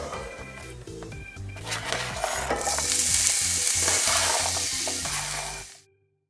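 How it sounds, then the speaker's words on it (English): Onion sautéing in hot oil for shepherd's pie, a close sizzle with stirring clatter that swells into a bright, loud crackle before cutting off abruptly. "Then we're gonna add in our onion and saute that."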